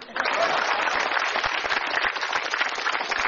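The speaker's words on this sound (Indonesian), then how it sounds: "Stand up comedy show. Tepuk tangan dong." An audience at a stand-up comedy show breaks into applause, a dense, steady wash of clapping that swells in and holds at a moderate level with no talk over it.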